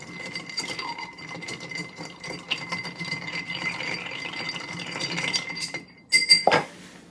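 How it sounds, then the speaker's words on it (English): Pineapple chicha cocktail stirred with ice in a mixing glass, giving a steady run of light clinks and rattles for several seconds, ending in a brief louder clatter of glass. "I'm just gonna give it a bit of a stir to chill everything"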